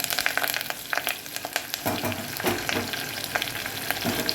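Cumin, green chillies and curry leaves splutter in hot oil for a khaman dhokla tempering. The sizzling is close and crackly, with dense rapid pops that continue the whole time, and no voices.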